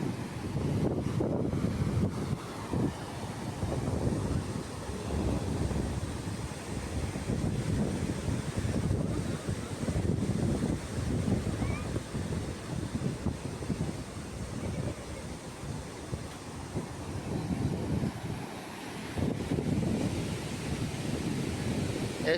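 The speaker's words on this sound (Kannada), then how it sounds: "ಸಮುದ್ರದ ಅಲೆಗಳು." Sea waves washing onto a sandy beach shore on a sunny day, a steady broadband roar of surf with rolling swells, heavy wind buffeting the microphone throughout, no voices.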